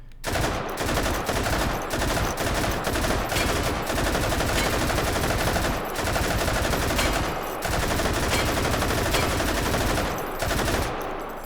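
An RPD machine gun in the Hot Dogs, Horseshoes and Hand Grenades game firing long, loud, close bursts of rapid automatic fire, with only brief pauses between bursts.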